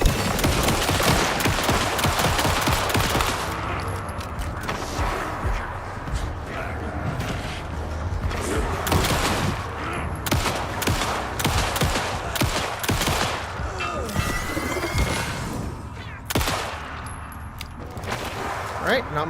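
Pistol fire in the video game Alan Wake 2, rapid repeated sharp shots in uneven bursts over a dense, noisy game soundscape, loud and close, with someone speaking at times.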